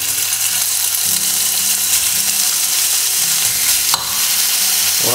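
Loud, steady sizzling of chicken frying in a hot pan for pad thai, with occasional scraping and stirring sounds and no talking.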